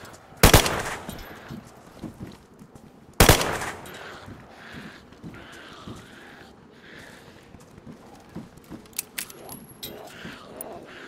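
Gunfire in the video game DayZ: two loud sharp bursts early, then scattered fainter shots and clicks through the rest, with people talking over it.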